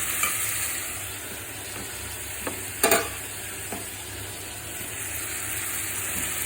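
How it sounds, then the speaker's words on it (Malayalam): Prawns frying in a pan for konju kizhi hiss with a steady sizzle while a spoon stirs them, giving a few scraping clinks over the constant frying noise. "നമ്മൾ ഈ പൊരിച്ചയിലേക്ക് കൊഞ്ചും കൂടെ ഇട്ട് മിക്സ് ചെയ്യണം"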